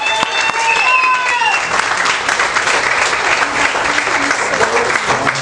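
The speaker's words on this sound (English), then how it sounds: "Give him a round of applause, you guys." A comedy-night crowd gives a loud, sustained round of applause as a comedian takes the stage, with a brief voice heard at the start over the clapping.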